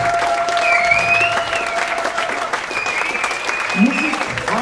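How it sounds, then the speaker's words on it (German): Audience applause at an orchestra concert, loud and sustained clapping from a crowd, with faint whistles or tonal cheers drifting above and a voice briefly audible within it. "Ein Applaus für Charts."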